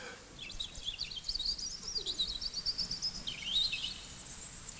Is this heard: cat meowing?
no